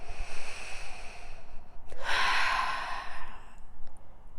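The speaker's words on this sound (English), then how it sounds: "Now go ahead and take a deep breath." A single deep breath drawn in close to the microphone, followed by a long, audible, airy exhale, heard alone in a quiet room.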